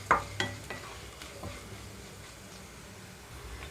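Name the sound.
coriander seeds being dry-roasted in a pan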